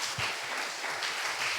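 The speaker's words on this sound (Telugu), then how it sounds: "ఒకసారి బిగ్గరగా చప్పట్లో కూడా దేవుని స్తుతిద్దాం." A church congregation at a Sunday service claps in praise, a dense, steady wash of hands heard from a moderate distance and sustained for a short burst.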